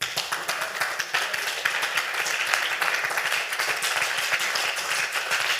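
A congregation at a church service claps steadily to acclaim the Lord, a dense, continuous wash of many hands filling the room without pause.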